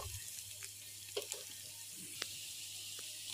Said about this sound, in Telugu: వాటిని బాగా ఫ్రై చేసుకుని గోల్డెన్ ఫ్రై వచ్చేదాకా ఫ్రై చేసుకోవాలి